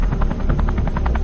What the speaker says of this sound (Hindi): वो देखो हेलीकॉप्टर उड़ रहा है।